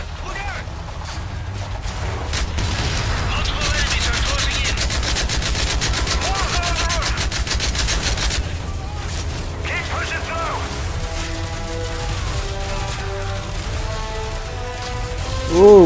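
Rapid automatic gunfire from a weapon in Call of Duty Mobile during a mission with Captain Price, Yuri and Soap, loud sustained bursts with mechanical clatter, game music and a voice talking over it.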